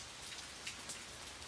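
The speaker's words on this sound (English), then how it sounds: "And I like the sound of the rain too." Rain falls steadily as a soft, even hiss of drops hitting a surface, unbroken throughout with a few slightly sharper patters mixed in.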